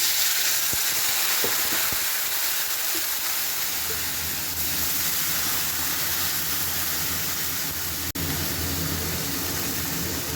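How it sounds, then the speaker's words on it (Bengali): Fried potatoes and taro in a pan for a fish curry, loud steady hiss and bubbling as water hits the hot oil, with a few clicks early on and an abrupt break near the end. "আলু আর গাঠি কচু ভালোভাবে ভাজা হয়ে গেছে এবারে দিয়ে দেবো জল"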